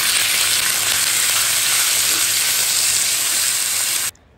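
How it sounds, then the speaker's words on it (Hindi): Mutton mince fries in a little oil for samosa filling, giving a loud, continuous sizzle that holds steady for about four seconds before cutting off abruptly. "हम थोड़ा ही ऑयल डालेंगे। मटन कीमा डाल देंगे।"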